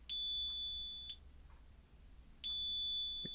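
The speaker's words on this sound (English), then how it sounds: "it's doing a double beep" Two long electronic beeps from a lap timing gantry, each about a second long and separated by a short pause, loud and clear against faint background noise.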